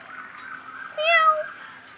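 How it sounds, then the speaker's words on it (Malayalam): A pet cat gives a single hoarse, strained meow, loud and close, over a faint steady background hum. "പൂച്ച എന്തൊരു സൗണ്ട് ഉണ്ടാക്കും"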